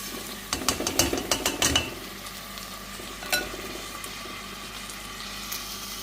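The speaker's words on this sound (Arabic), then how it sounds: "هلا انا قليت اللحمة وشلت يلي بدي اشيله منهم، بدي اضيف الرز." Raw rice is tipped into a pan of fried meat and stirred, giving a quick cluster of clattering, scraping strokes followed by a quieter sizzle and an occasional stir, close and fairly soft with no talk.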